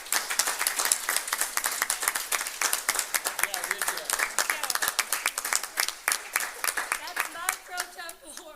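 Dense, steady hand clapping from a student government meeting group fills the whole stretch, brisk and close, tapering slightly at the end, with a few voices mixed in.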